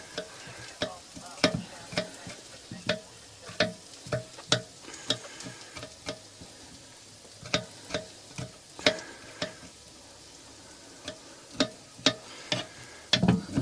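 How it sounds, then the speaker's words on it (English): Meat browning in a frying pan with onion, sizzling steadily beneath repeated sharp scrapes and clicks of a utensil stirring, no voices. "brown the meat off"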